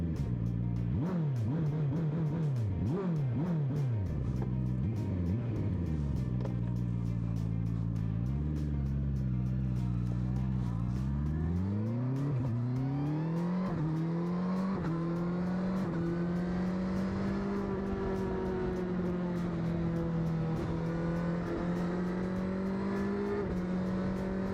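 A QJMotor SRK800 naked motorcycle engine revs while riding, its tone climbing and falling through gear changes, then holding a steady high-pitched drone, loud and close over wind noise throughout.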